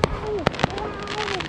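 Fireworks bursting over a beach in Denpasar, Bali, on the 4th of July, a few sharp pops and crackles with whistling trails amid crowd noise and people talking.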